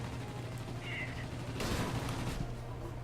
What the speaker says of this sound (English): Now we're going to see what the guns do.